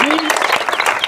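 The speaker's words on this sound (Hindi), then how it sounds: "इनके लिए ताली बजाइए" Brief applause at a training centre for the best cadet, a short patter of clapping hands heard under a speaking voice.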